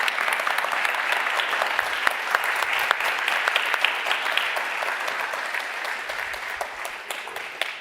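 A forum audience claps together in a sustained round of applause that stays dense and even throughout and eases slightly toward the end.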